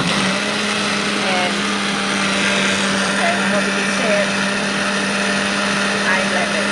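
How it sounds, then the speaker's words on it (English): A blender runs continuously on bread for a creamy gazpacho, giving a loud, steady motor whir with a low hum throughout, while a person talks over it. "you just put it in and you blend it until smooth"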